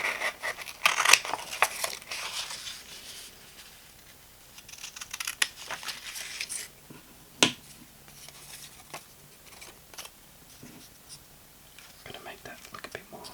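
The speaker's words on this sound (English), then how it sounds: "cutting paper with scissors" Scissors snip through paper in an ASMR setting, soft crisp cuts and rustles arriving irregularly, close and quiet, with whispered talk between them.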